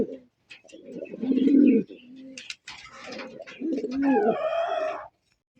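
A pair of pigeons, a white racer and a white grizzle, coo close by in repeated throaty bursts with short pauses between them. No one speaks.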